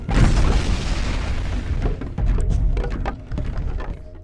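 A bomb blowing up blocks in the video game Boom Blox: a heavy, loud boom opens, followed by a rumbling tail and a scatter of sharp clattering knocks as pieces tumble and land.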